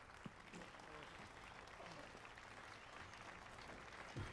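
Steady, faint applause in the game The Witcher 3 Wild Hunt, under a noisy backdrop, with a voice speaking over it.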